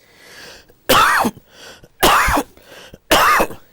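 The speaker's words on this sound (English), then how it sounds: "So, that means a deep cough like this." Three loud, deep coughs spaced about a second apart, each a harsh forceful burst, close to the listener with quiet breathing between.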